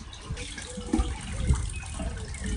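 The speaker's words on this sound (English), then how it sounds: "Wash my face, oh my hair's getting wet" Water splashes and sloshes at a sink as someone washes their face, close by, with uneven bursts of splashing and no talking.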